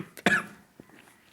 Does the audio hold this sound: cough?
yes